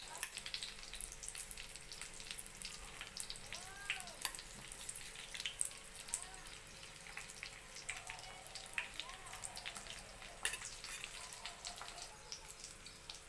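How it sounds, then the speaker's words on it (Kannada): Stuffed brinjal with masala stuffing fries in a pan, giving a quiet continuous sizzle with scattered small pops and crackles throughout. "ಬದನೆಕಾಯಿ ಈ ಥರ ಫ್ರೈ ಆಗಿದೆ"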